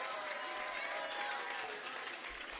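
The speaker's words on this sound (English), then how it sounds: "Let's give Commissioner Lincoln a big round of applause" Outdoor crowd applause at a community center groundbreaking in Shepherd Park honoring a school commissioner, a faint, steady wash of clapping heard from a distance.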